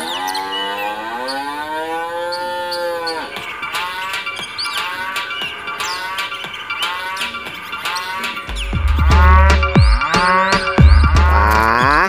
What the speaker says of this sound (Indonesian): yang ini hewan sapi